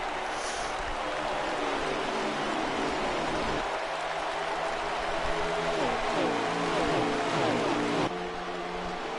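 Racing trucks at Dover roar past with engine whines rising and falling, a steady wash of motor noise heard from a distance.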